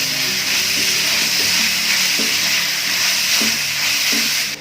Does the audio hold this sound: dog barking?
no